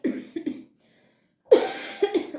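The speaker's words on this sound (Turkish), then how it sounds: "kusura bakmayın öksürüm halen durmamış" Two bursts of coughing, close and fairly loud, separated by a short silence; the second burst is longer with several rapid hacks.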